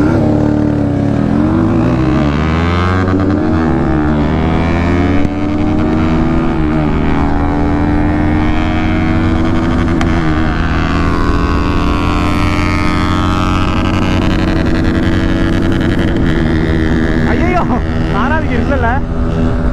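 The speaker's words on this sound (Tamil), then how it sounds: "நம்மளோட குட்டி NS ஓட்ட போகிறோம் இப்போ" A Bajaj Pulsar NS160 motorcycle being ridden, its loud engine note rising and falling through revs, a dense continuous roar close by with wind rush and no pauses.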